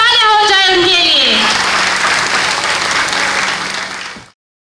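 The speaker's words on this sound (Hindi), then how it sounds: "जोरदार तालियां हो जाए उनके लिए" A large audience applauds loudly for the winning team, Harshit 11, at a Birsa Munda 151st birth anniversary celebration in Andaman. The clapping is dense and steady over a voice at the start, then cuts off abruptly.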